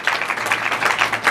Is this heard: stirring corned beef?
no